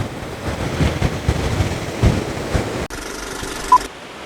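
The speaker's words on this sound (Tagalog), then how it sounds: "Masyadong malakas ang hangin." Strong wind roaring and gusting against the microphone, with surf-like rumbling underneath, then a sudden drop to a quieter hiss.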